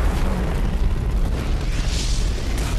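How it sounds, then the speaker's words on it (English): An explosion roughly half a mile away comes through as a loud, sustained rumbling roar with dense low-end energy and no distinct attack, heard alone without voices. "Sounds like that explosion came from about half a mile away."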